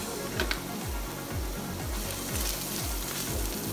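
Finely chopped celery and scallions sauté in a pan on high heat, a steady close sizzle with a few quick stirring clicks and a rhythmic low thumping underneath.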